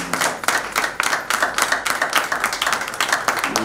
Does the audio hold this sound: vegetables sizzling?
no